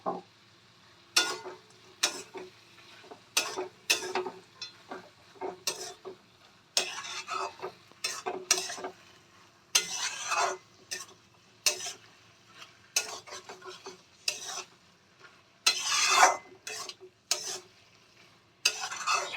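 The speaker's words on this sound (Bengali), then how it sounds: "এই সময় আমি ভেজে রাখা বেগুনগুলো দিয়ে দেব।" Fried eggplant is stirred into a sizzling tomato masala, a soft frying hiss under repeated spoon scrapes and clacks against the pan in irregular bursts, close and fairly loud, with no talk.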